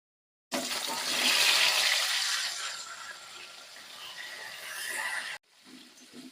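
Boiled taro pieces drop into hot oil in a pan for a fish curry, setting off a loud, rushing burst of frying that roars for several seconds and then tapers before cutting off, close and without talk.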